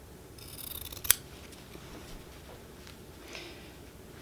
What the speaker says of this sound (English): now I'm going to take my scissors and I'm going to cut an angle